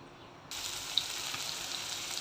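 Chopped onion hits hot oil in a pan for a village-style gavar (cluster bean) bhaji, bursting into a sudden sizzle half a second in and settling into a steady, close frying hiss.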